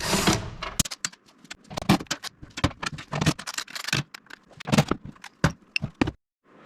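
Bolts are worked loose from the guard of a Cub Cadet ST 100 walk-behind string trimmer, a close series of metallic clicks, scrapes and ratchet-like rattles in irregular bursts with brief pauses.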